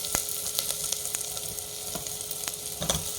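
Cut potatoes fry with onions in a hot pan, giving a steady close sizzle broken by a few sharp crackles and stirring clicks, with no voices.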